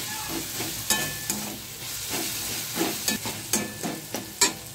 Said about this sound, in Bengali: সামান্য গরম জল দিয়ে সমস্ত মশলা ভালো করে কষিয়ে নেব।